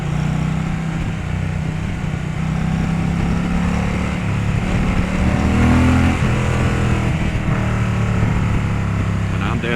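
A 2023 Indian Pursuit motorcycle rides along in second gear, its engine giving a steady, loud low drone that swells slightly midway, with some wind noise.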